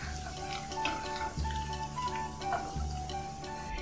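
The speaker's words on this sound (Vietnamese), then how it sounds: "Các bạn chiên cho nó phồng lên như vậy rồi mình vớt ra để vào trong miếng giấy thấm dầu." Tofu skin sizzles in hot oil in a pan, giving a steady, dense crackling fry with a couple of soft low thumps.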